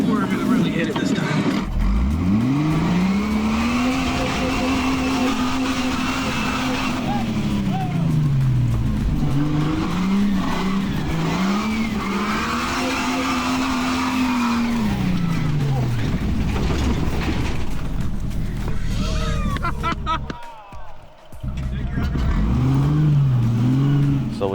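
Modified Jeep TJ off-roader with custom K&N intake accelerating hard, the engine revving up and down repeatedly in loud, close bursts with a brief break near the end.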